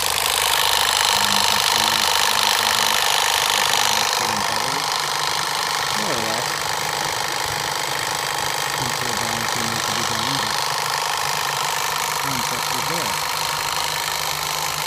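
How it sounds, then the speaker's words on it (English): A small air compressor stands in for a propane generator exhaust, venting steadily through an open exhaust valve and diffuser with a continuous hiss and hum, while a voice talks over it intermittently. "acting as our generator exhaust, is this little air compressor"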